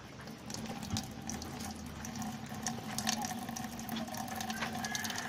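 Well water runs steadily through a homemade multi-stage water filter, a continuous faint trickling and splashing flow with no talk.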